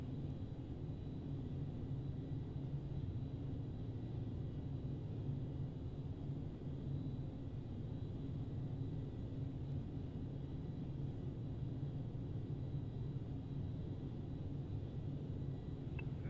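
Carenado ATR 72-500 turboprop airliner in a flight simulator, a steady low droning engine rumble at cruise, constant and even throughout with no voices.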